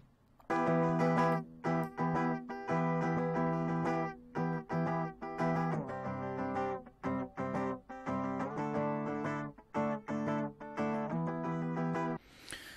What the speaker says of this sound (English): So a pretty basic strumming guitar, not very tight, but whatever.